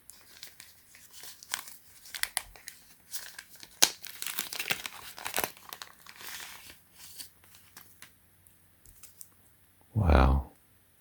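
A thick Ziploc plastic bag crinkles and rustles close up in short, quiet bursts, with one louder crackling handful near the end.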